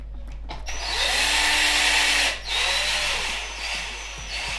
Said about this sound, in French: Donc bien sûr les deux petites vis qui viennent se visser dans la tour.